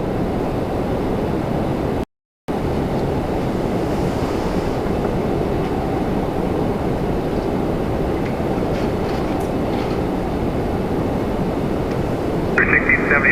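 An Airbus A321neo departing Toronto Pearson gives off a loud, sustained jet rumble that continues throughout, briefly cut by a short gap, while radio chatter sits faintly underneath.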